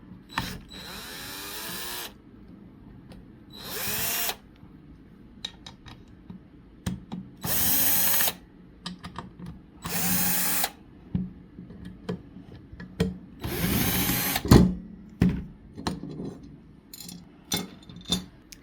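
A power tool spins out the base plate screws on a WEN tool in several short loud whirring bursts, separated by quiet gaps with small clicks and handling taps.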